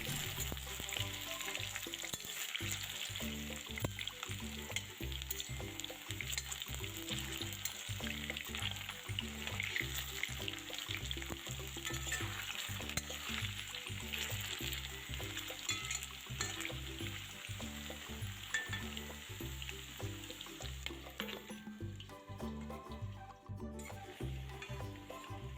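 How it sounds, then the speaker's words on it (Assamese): Potatoes fry in oil in a kadai for Kashmiri dum aloo, a continuous sizzle with repeated stirring scrapes and clinks in a steady rhythm, close up and fairly constant, briefly quieter near the end. "লগত মই কেৰাহীত আলুখিনি ভাজিবলৈ বহাই দিছো"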